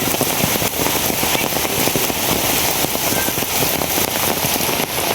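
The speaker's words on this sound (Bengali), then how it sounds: "বৃষ্টি বাদল থাকলে তো ভিজবই।" Heavy rain pours steadily and loudly throughout, a dense continuous hiss with scattered crackling drops close by, no voices.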